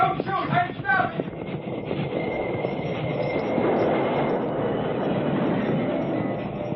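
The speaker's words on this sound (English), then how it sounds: "Stop that train!" A train in a radio Western drama rolls along steadily, with clattering rail noise and a sustained squeal, while shouting voices sound over its opening moments.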